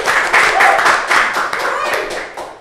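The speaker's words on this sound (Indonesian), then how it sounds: "Tepuk tangan dong guys" A small group claps hands close by, a quick uneven patter of loud individual claps that swells and fades over a few seconds.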